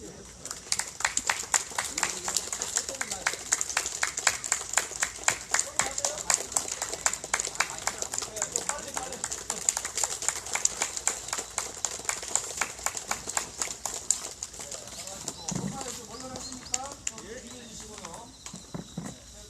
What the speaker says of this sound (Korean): 손목에는 힘을 빼시되 손가락은 힘을 줘서 박수를 치고 있어요.